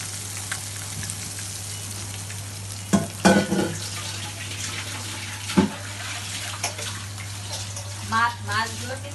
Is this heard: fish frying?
yes